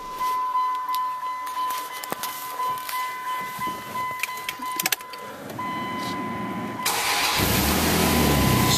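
A 2002 Dodge Dakota SLT truck with an exhaust leak cranks with a whirring starter, catches and settles into a loud, rough idle, close by and with no talk.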